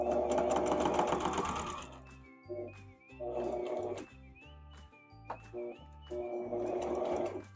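A sewing machine stitching fabric runs in short, rhythmic whirring bursts, starting and stopping several times with brief pauses between runs, close and fairly quiet.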